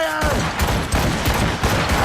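A volley of cannon and musket fire in Assassin's Creed Rogue, a loud dense barrage of overlapping booming shots rolling continuously throughout.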